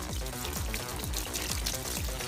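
Water spraying to rinse engine degreaser off a motorcycle, a close, continuous splashing hiss with a faint rhythmic pulsing underneath, no speech.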